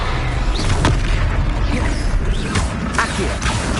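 A Leviosa spell cast in Hogwarts Legacy, with loud, dense magical game effects: booming bursts and sweeping whooshes layered over a constant rumbling combat backdrop.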